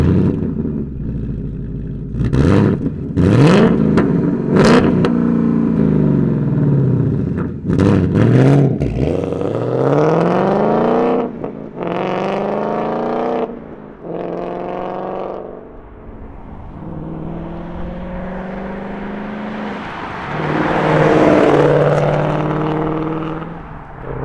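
A Ford Mustang GT fitted with an MBRP 2.5-inch resonator bypass X-pipe revs hard and accelerates on the highway, the loud exhaust note climbing and dropping through repeated pulls, with sharp throttle blips early on.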